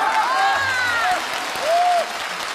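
Audience applause at a Spring Festival Gala comedy sketch, a continuous wash of clapping from a large crowd with voices talking over it.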